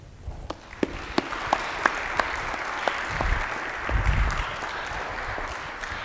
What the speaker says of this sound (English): Tepid applause.